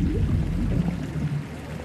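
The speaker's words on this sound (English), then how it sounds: "the sound of water outside the back door" Water runs outside a garden back door as a steady low burble and trickle, continuous and fairly close, with no speech over it.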